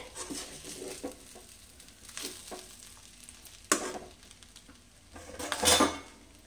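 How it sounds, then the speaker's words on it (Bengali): A spoon stirs ghee gently into cooked white pulao rice, giving soft, intermittent scrapes and light metallic clinks against the pot, with a sharper knock near the end, all fairly quiet and close. "খুব আলতো হাতে একটু ঘিটাকে মিশিয়ে নেব।"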